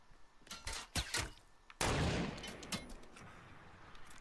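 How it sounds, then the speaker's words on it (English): Rockets fired in a video game firefight: several sharp launches and blasts early on, then a heavy booming impact with rumbling debris that slowly settles. "Oh, they're shooting rockets now"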